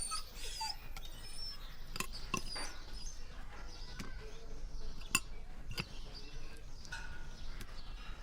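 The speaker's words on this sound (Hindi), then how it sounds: "नया कुत्ता है, इंपोर्टेड।" An imported dog whimpers softly in short, repeated high whines amid quiet background noise, faint and fairly close.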